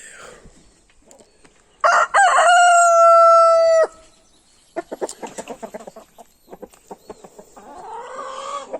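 A rooster gives one long, loud, strained crow close by, then falls into a quick run of short clucks. Quieter scratchy background sounds come before the crow.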